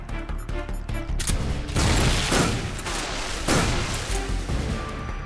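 In the video game Metal Gear Solid 3, a Tommy gun fires loud, rapid bursts of automatic fire, dense and sustained, with a brief pause between volleys and no talk over it.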